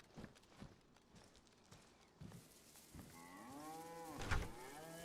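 A cow moos in the video game DayZ, a long drawn-out low call with wavering pitch rising to a loud peak near the end, following softer thumping footsteps and scattered ambient noise.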